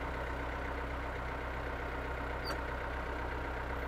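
Yanmar YT359 compact tractor engine idling, a steady, even diesel drone close by with a faint brief tick partway through, no voices.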